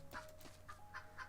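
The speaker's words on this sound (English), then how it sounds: "there is a chicken under here. I can hear it." Chickens in the Ghostlore video game cluck under trees: four short, soft clucks spaced across a little over a second, at low level over a steady game hum.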